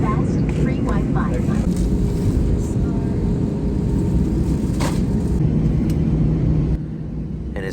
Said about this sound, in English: It is time for takeoff here as we pass a few Delta A350s.